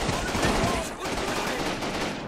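Machine gun fire from a World War II battle in Combat Mission: Rome to Victory, a continuous rattle of rapid automatic shots with a couple of heavier bursts, under faint talk.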